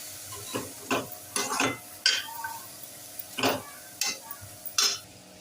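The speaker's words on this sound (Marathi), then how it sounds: "आता हे भाज्या आपल्याला थोड्याशा असे टॉस करायचे, जास्त शिजवायचे नाही आहेत" Carrots and yellow bell pepper being tossed in a hot pan give off a series of short scraping, sizzling bursts, with about eight irregular stir-and-toss strokes over a faint background hiss.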